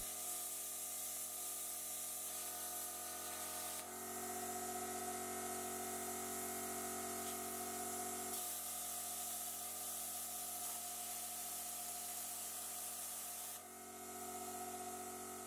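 A Parkside plasma cutter slices through steel angle, giving a continuous loud hissing spray with a steady buzzing hum. The hiss shifts in tone a few times as the cut goes on, and nobody speaks.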